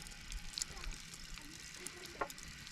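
Small, finely chopped pieces of meat frying in a little oil in a pan outdoors on a mountain top, a quiet, steady sizzle with a few sharp pops and crackles scattered through.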